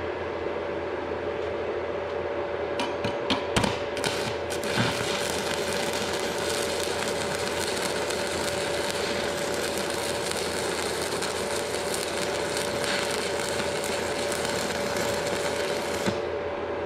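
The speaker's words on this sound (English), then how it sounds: "That's welding pretty smooth there." A YesWelder 205DS stick welder running a 1/4 inch rod on 110 volts, producing a steady, continuous crackling arc with a constant hum, close and unbroken for about sixteen seconds, with a few sharp pops near the start.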